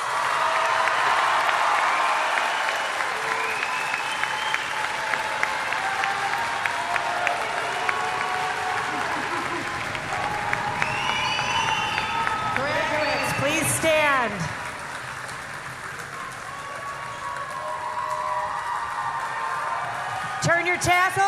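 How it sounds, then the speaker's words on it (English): Sustained applause from a middle school graduation crowd honoring graduating students, a steady wash of clapping with scattered whoops and voices, briefly dipping before picking up again. "Please give an applause to the Green Team students."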